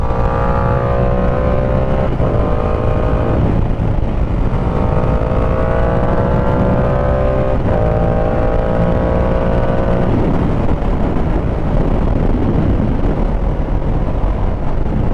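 Yamaha R7 sport bike with a Yoshimura R77 exhaust fitted with a dB killer, riding along with a steady loud engine drone and a few rising revs between gear changes, plus wind rush throughout.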